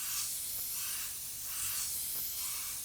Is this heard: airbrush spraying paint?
yes